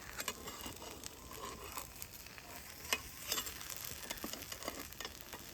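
Vegetable and flour flatbread cooking in a pan over low heat, a faint, soft sizzle with scattered small crackles and pops, close and quiet.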